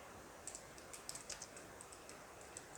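Quiet computer keyboard typing: a short run of light, irregular key clicks entering a command, fairly close over a steady low background hiss.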